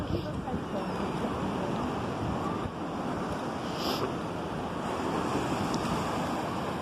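Cold, gusty wind rushes across the microphone over steady choppy water lapping at a pier in Clearwater, a continuous broadband roar with no break and no voices.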